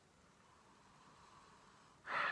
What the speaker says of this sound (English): let's try and salvage this mess of a review and give it a sniff